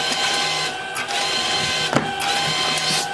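A LAB510 labeller machine applies labels to cardboard cartons with a continuous loud mechanical whir, steady motor tones and periodic clunks and swishes as each carton passes, close and constant throughout.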